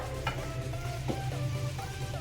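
Bread crumbs being stirred into a vegetable cutlet mixture, soft scraping and squelching strokes in a few uneven passes, close and fairly quiet.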